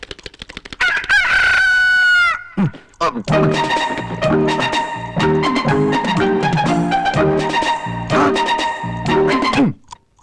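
A rooster crows loudly once near the start, followed by a rhythmic electronic chiming melody playing steadily for several seconds.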